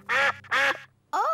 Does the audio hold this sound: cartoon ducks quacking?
yes